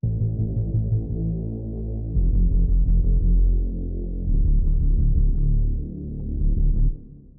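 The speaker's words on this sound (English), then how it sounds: "this impact bass went through some distortion here and some processing just to really emphasize the grittiness of the bass" Heavy, gritty distorted bass tones, low and throbbing, swelling in repeated sustained hits before cutting off near the end.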